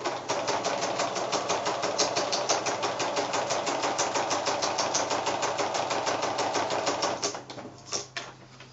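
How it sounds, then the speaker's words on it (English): A sewing machine stitches closely spaced parallel lines on fabric for an appliqué card, running as a steady rapid needle rattle for about seven seconds before slowing and stopping, close and loud, no talking. "I'm actually sewing these lines approximately 1/4 of an inch apart"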